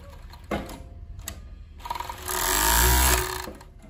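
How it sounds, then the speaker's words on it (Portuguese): An overlock sewing machine stitches fabric for traditional panties, first in short bursts, then a steady, louder whirring run near the end, with no talking. "vai levar aqui na sua máquina overlock e fazer a costura"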